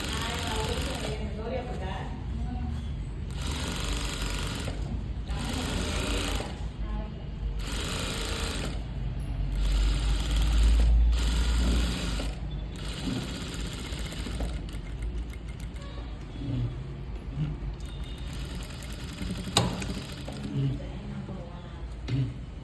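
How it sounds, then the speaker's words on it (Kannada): Sewing machine stitching a child's skirt and blouse, running in steady loud bursts with short pauses between seams, close by, with no talk over it. "ಇನ್ನೇರಕ್ಕೆ ಮತ್ತೆ ಇನ್ನೊಂದು ಸ್ಟಿಚ್ ಹಾಕೊಂಬಿಡೋಣ"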